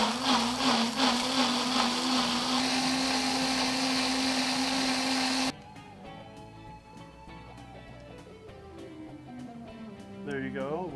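A blender whirs steadily, blending sour cream into jalapeno sauce, then cuts off abruptly midway, leaving quieter kitchen sounds with a brief clatter near the end.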